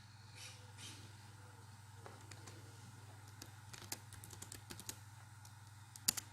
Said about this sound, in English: If there is someone there, please type your name in.